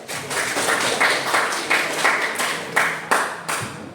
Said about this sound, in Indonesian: tepuk tangan untuk Fadal.